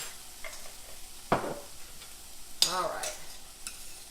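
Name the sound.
sautéing and stirring garlic in a pan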